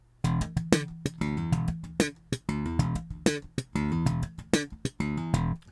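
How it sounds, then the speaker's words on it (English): Slap bass guitar playing a slap pattern: sharp percussive thumb slaps and popped notes in a quick, steady syncopated groove, loud and close with no talking. "In lesson two, I showed you this pattern,"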